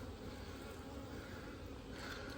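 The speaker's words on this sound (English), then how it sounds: "Look at all those pretty bees." Honey bees buzzing steadily at an open hive during an early spring check in North Carolina, a dense close hum that carries on without a break.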